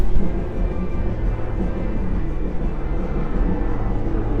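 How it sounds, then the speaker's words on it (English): A steady low rumble of a helicopter overhead drones on throughout, fairly loud and unbroken, with no other distinct sounds. "I just hear a helicopter."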